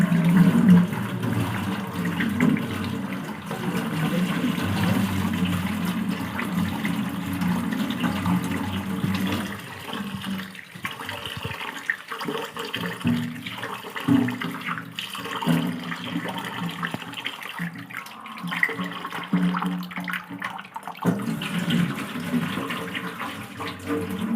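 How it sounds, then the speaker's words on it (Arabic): Tap water runs steadily while rice is rinsed in a kitchen, a continuous splashing stream with brief dips and swirling sloshes as the grains are stirred. "نغسل الرز بتاعنا كده"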